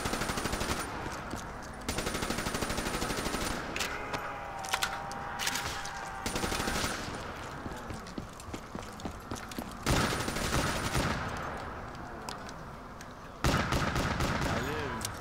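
A ray gun firing over and over in a zombies video game, dense bursts of rapid blasts that fill the scene, broken by short pauses, alongside other game noise and occasional voices.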